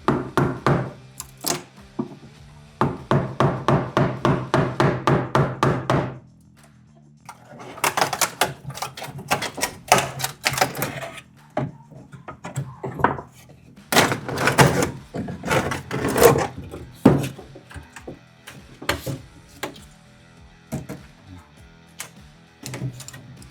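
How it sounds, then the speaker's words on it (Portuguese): Workers take the lower wooden top panel off an old termite-damaged piece of furniture, making close bursts of rapid mechanical rattling followed by irregular wooden knocks and taps. "vou fazer a retirada agora desse tampo aqui inferior para verificar como é que está a situação por baixo dele"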